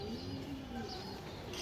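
A green-necked pigeon with black tail and wings coos faintly in low, soft tones against a quiet background hiss.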